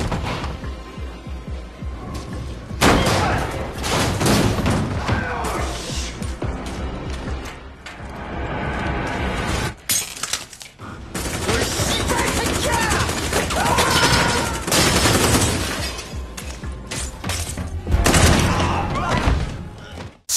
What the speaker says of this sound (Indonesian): Sayangnya, atasan Lido terkena tembakan di bagian vital